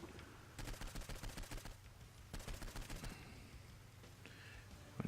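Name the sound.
SMG gunfire in Saints Row IV video game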